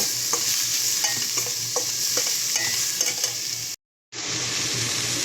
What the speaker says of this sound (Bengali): রসুন দিয়ে দিলাম একটু নাড়া নিয়ে নেব